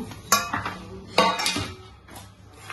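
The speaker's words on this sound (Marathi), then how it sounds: "आपण जे शेंगदाणे भाजून घेतले होते ते टाकून घेऊया" Roasted peanuts tipped into hot jaggery syrup in a metal pan for peanut chikki, two sharp clattering clinks of nuts hitting metal followed by a softer rattle, close and alone with no talking.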